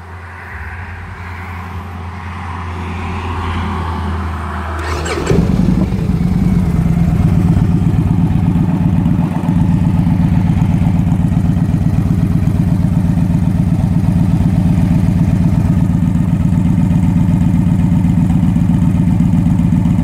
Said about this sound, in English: The Bassani sounds pretty nice on this bike.